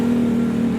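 A Volkswagen Golf VR6 at a car show holds a steady, close engine note for under a second, with no talk.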